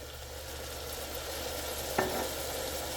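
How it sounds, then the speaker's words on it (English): Spam slices stir-frying over lowered heat in a sugar and soy sauce glaze, a steady soft sizzle with one brief clack of a utensil against the pan midway, no voices. "Turn the heat down here and slowly stir fry."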